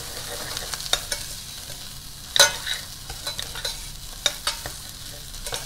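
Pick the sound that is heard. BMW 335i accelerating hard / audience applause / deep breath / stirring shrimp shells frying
stirring shrimp shells frying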